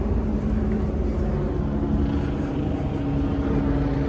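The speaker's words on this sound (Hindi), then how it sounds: "ऊपर लग रहा है कोई हेलीकॉप्टर आ रहा है।" A helicopter passes overhead near Victoria Dockside in Hong Kong, a steady low rotor and engine rumble that fills the scene continuously, fairly loud and unbroken.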